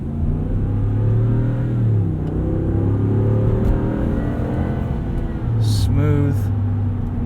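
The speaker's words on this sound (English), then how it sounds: "Can't go wrong with this Hemi V8." A 2019 Ram 1500 Rebel pickup with a Hemi V8 accelerates on a night drive, heard from inside the cab as a steady low engine rumble with rising and falling tones through gear shifts, loud and continuous beneath some faint talking.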